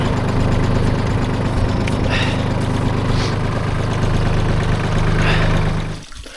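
A steady, loud Solis 26 tractor engine idles continuously with a low rumbling drone, then cuts off abruptly near the end.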